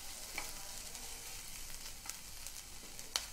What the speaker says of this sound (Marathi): हा जरासा मऊ होईपर्यंत भाजायचा। आता भाजत आलेलं आहे।